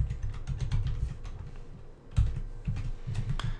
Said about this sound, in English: it's asking what the current user account password is, so I'm going to type that in here